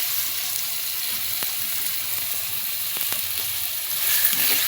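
Onion and tomato frying in a pan, for a jackfruit-seed samosa filling, give a steady, dense sizzle that holds evenly throughout and swells slightly near the end, with no voices.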